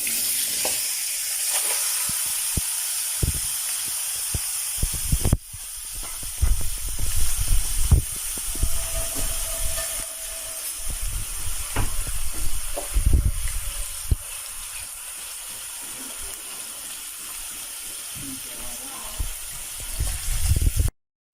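Chunks of fat for Kyrgyz kurdak hiss and sizzle steadily in a hot wok, a continuous close crackling spray that intensifies after a few seconds, with no one talking.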